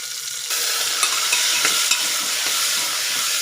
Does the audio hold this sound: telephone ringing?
no